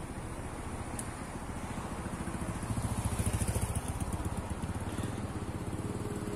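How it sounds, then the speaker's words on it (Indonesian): Motorcycle passing by at a roadside vista point before the Menora Tunnel, a steady mid-pitched engine drone that swells slightly and then eases, fairly faint, with no talk. "Motor ni nak lalu dulu."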